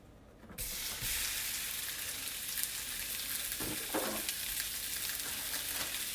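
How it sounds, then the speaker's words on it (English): Sausage drops into a hot pan and immediately starts a loud, steady sizzle that continues, with a few brief stirring or scraping touches partway through. "So my pan is hot. I'm going to go ahead and add my sausage."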